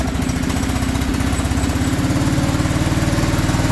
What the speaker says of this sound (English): let's just see if we can get to start.